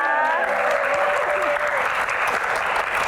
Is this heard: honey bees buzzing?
no